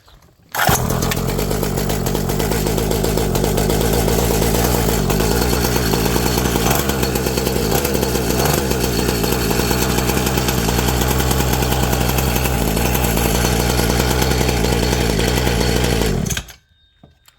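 A dirt bike engine, just back from a blocked-carburettor repair, catches and runs loud and close at a steady buzzing idle for about sixteen seconds, then cuts off abruptly; no talking.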